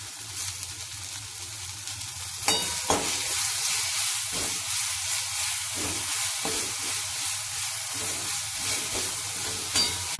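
Coriander and a little tamarind sautéing in a dry pan, a steady close sizzle with repeated scraping stirs of a spatula throughout, no voices.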